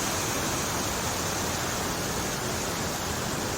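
Li Phi waterfall at Don Khon in southern Laos, flowing with lower water in the dry season, makes a steady, loud, broadband rush of falling water, continuous and alone with no voices.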